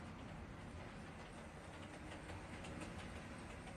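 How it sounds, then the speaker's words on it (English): A model railway train running on DC twin track gives a steady, continuous rolling rumble with a faint rhythmic clatter, fairly quiet and unbroken, with no voices. "I can actually run a twin track at the moment on DC, so I'll have another train going in the opposite direction"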